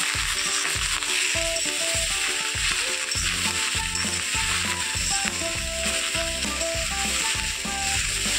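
Sweet pumpkin chokka frying in a pan with chilli powder, with a steady loud sizzle under repeated rhythmic scraping and clattering of a spatula, continuous throughout.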